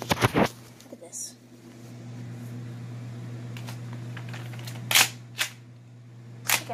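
Sharp, futuristic gun shots go off in a zombie video game, a few distinct cracks spaced apart over a steady low hum, with a player talking in between.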